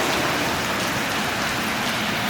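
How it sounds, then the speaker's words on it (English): Steady rain falls outdoors, a dense continuous hiss of drops striking surfaces, close and fairly loud with no voices over it. "It's raining, so I won't go too far out there."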